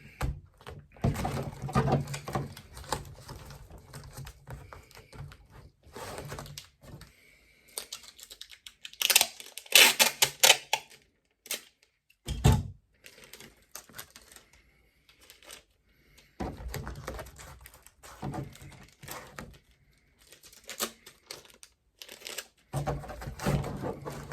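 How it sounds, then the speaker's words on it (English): Packing tape pulled and pressed onto a cardboard box being packed around an iPad sold for parts, heard as intermittent close ripping, crinkling and scraping bursts with quiet gaps between them. "Then we can tape this side."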